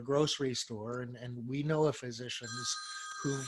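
A mobile phone ringtone chimes in a short electronic burst beneath a person speaking during an online webinar, sounding fairly faint under the voice.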